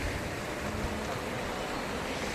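A steady wash of ocean surf breaking over rocks at Anjuna Beach in Goa, broadband and constant, with a faint rumble of wind underneath and no distinct individual wave crashes.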